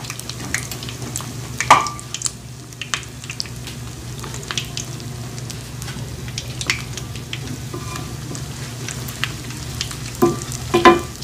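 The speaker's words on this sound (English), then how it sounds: "now we're gonna put our rolls in the pan so that it can be fried" Malagkit ube rolls frying in a pan, a steady close sizzle of oil with occasional sharp pops and crackles and light stirring clinks, no talking.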